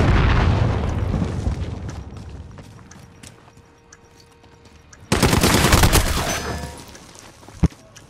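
A thrown explosive in a video game blows up in a sudden loud, broad blast, following a stretch of rumbling gunfire and battle noise and a single sharp crack near the end.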